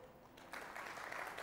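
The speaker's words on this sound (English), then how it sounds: "Give for me the worst, measliest golf applause you can muster" A conference audience gives a brief, quiet smattering of polite golf-style applause, soft scattered claps starting after a moment of near silence.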